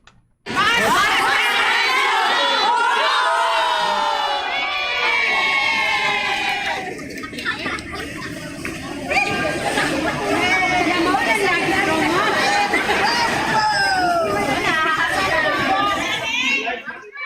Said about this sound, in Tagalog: Okay, Bombo Laika, talagang malakas pa rin ang sigaw ng ating mga kabombo dyan sa bahagi ng General Santos.